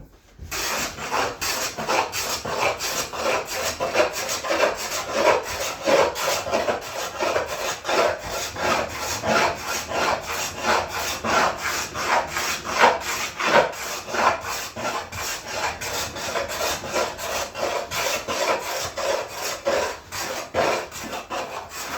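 Hand plane taking shavings off an old worn wooden cutting board, giving steady rhythmic rasping strokes that repeat closely and evenly throughout, loud and near with no talking.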